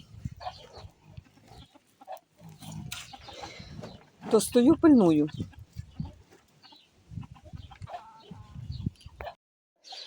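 Chickens cluck and squawk nearby, with one loud burst of calls in the middle, while a person speaks briefly between them.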